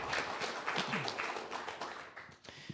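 An audience at the RPG Limit Break 2024 finale applauds volunteer staff coordinators with dense, sustained clapping that fades slightly toward the end.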